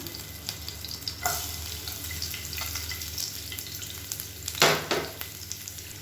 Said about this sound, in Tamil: இப்போ எண்ணெய் சூடானதும் பூண்டு பொடியாக கட் பண்ணி வச்சுருக்கேன், அதை சேர்த்துக்கலாம்.